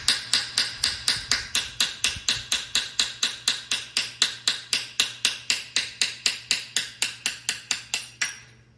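Rapid, regular hammer blows on a punch, knocking out expansion plugs on an NP205 transfer case from a 1972 GMC Jimmy, about thirty sharp metallic strikes in steady rhythm, close and alone.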